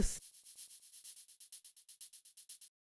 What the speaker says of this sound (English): You can see I took a shaker sample,